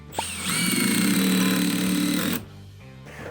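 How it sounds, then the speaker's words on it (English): A power drill drives a pancake-head screw through a cleat into the top of a wall for a coping cap, giving one loud, buzzing burst of about two seconds that stops sharply. "we're going to use a pancake head screw to secure this cleat to the top of the wall"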